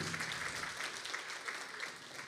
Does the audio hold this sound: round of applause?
yes